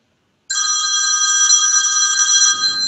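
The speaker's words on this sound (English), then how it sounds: "Phone." Telephone ringing starts abruptly after a brief silence: a loud, close, steady electronic ringing tone that continues unbroken for over two seconds.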